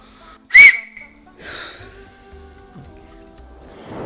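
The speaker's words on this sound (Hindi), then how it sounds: "सीटी बजाना सीखेंगी?" A single sharp, high whistle blown briefly, followed by softer breathy attempts at whistling with faint tonal hums beneath, all fairly close and without speech.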